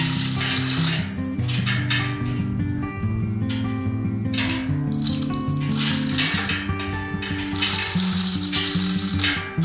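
A 1.5 ton chain block clatters and ratchets loudly and continuously close by as it lifts a trailer to flip it, with rattling chain, clinking metal and repeated pawl clicks.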